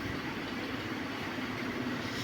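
The Netravati Express passing through Mayyanad, a small village railway station in Kerala: a steady, continuous rumble and rolling roar of carriages going by at a constant level, with no talk.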